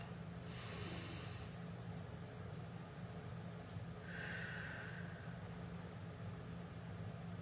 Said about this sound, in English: Another deep breath, breathing low into your belly